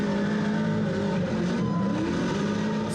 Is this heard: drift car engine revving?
yes